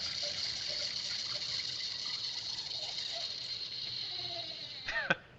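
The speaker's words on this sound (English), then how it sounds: "It's a little loud, but so you basically just hold it over your glass and pour" Wine pours through a handheld aerator into a glass with a steady, fairly loud hissing gush that runs for several seconds and then stops with a short gurgle and clink at the end.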